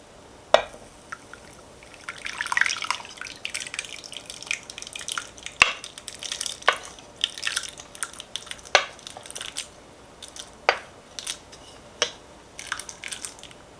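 Thick corn pudding batter pours and plops into a buttered baking dish, with a run of wet drips, splats and soft scraping taps spread across the stretch, close and fairly clear.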